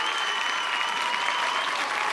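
A television studio audience applauds steadily to welcome a silambam master onto the set, a dense wash of clapping that holds even throughout its short span with no voices on top.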